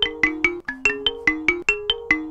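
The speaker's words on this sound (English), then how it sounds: "That's someone ringing you." A phone ringtone plays a repeating melodic pattern of bright electronic tones, clear and fairly close, with no talking over it.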